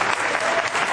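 Brief burst of strong audience applause welcoming a speaker at a cannabis association event, dense and close, with no talk over it.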